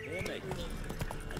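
Horse hooves clip-clopping at a run in The Witcher 3, a steady galloping rhythm heard close under continuous talking.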